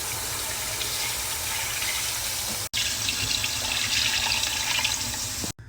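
Water running from a kitchen tap while chicken tinola is being made, a steady close splashing stream that breaks off briefly midway, then resumes before stopping at the end.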